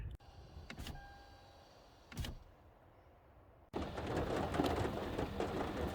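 An electric power window hums shut on a car parked by Green River Lakes, Wyoming, in a couple of short whirring bursts. Then heavy rain rushes in loudly, a steady hiss drumming on the roof.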